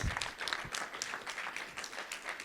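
An audience claps at a self-determination conference session, a steady broadband patter of many hands lasting the whole stretch, fairly loud and close with no voices over it.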